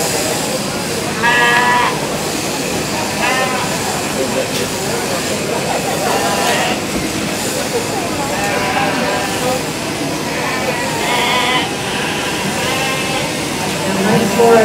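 Sheep bleating during a speed shearing competition, several bleats rising over a loud, busy arena background with talk and crowd noise.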